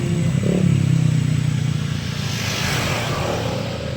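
Honda PCX scooters passing on Marilaque Highway, loud engines revving near the start and then easing into a steady, slowly fading drone as they go by.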